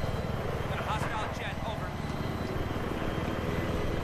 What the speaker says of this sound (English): enemy plane.